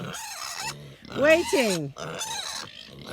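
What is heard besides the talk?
pig grunting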